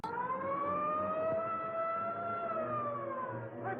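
An ambulance siren wails in a long rising and falling tone, loud and steady for the whole stretch, with faint traffic beneath it.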